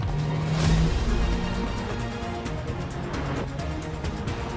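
Nissan Rogue SUV engine accelerating on the road, a moderate steady engine rush with a brief swell early on, under a music bed, no voices.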